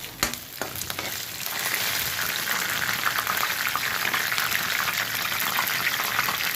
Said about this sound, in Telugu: ఆయిల్ వేడయ్యాక ఆనియన్స్ వేసుకోవాలండి. కొద్దిగా కరివేపాకు వేసుకోవాలండి.